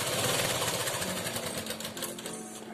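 Sewing machine stitching the waistband of a lehenga, a steady close, loud mechanical whir with rapid needle rhythm running throughout without pause.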